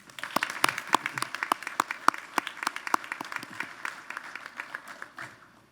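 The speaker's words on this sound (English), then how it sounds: "please again join me in another round of applause for Dr." Commencement ceremony audience applauding for Dr. Cottrell, a moderate crowd of distinct claps that tapers off toward the end, with no talking over it.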